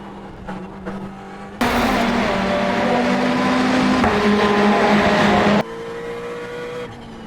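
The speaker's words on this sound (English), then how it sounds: "the tyre squealing then, that was basically a four-wheel drift" Ferrari 488 tyres squeal hard in a four-wheel drift around the Charlotte Roval in iRacing, a loud sustained screech with wavering tonal lines over engine roar, rising abruptly and cutting back to engine noise near the end.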